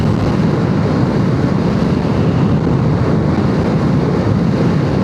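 Strong wind roars across the microphone during a motorcycle ride, a loud, constant rumbling buffet with no breaks.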